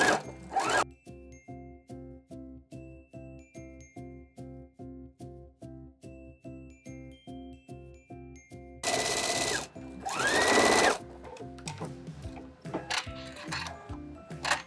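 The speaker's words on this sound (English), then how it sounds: "Now let's sew up the other side." A sewing machine stitching a bodice seam runs in a fast, even mechanical rhythm for most of the stretch, with a couple of brief louder rustling bursts near the end and a short pause at the start.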